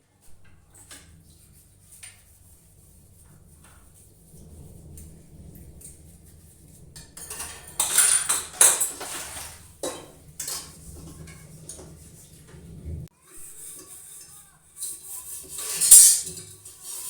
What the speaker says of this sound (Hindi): पहले बर्तन वर्तन सब धो लेता हूँ, सफाई कर लेता हूँ किचन की।